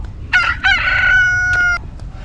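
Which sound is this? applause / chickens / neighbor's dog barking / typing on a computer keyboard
chickens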